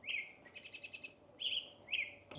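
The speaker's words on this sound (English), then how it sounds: "We hear these birds, right? That's probably a robin." Birds, probably a robin, singing on a spring street in Helena, Montana, several bright whistled phrases and a quick trill, faint and somewhat distant over low outdoor hum.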